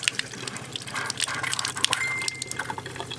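Water gushing steadily from a pipe inside a van, a close continuous rushing flow with some splashing and a faint whistling tone partway through, with no speech.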